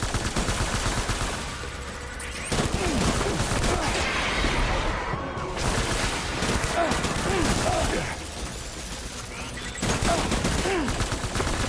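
Heavy gunfire in the video game Death Stranding, sustained bursts of automatic shots and a fusillade rattling continuously for several seconds, loud and dense, with shouting voices mixed in.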